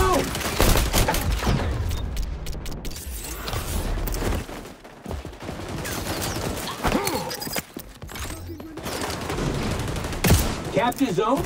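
Rapid gunfire bursts in an XDefiant online shooter match, loud and continuous with repeated rattling volleys and game voice lines over the top.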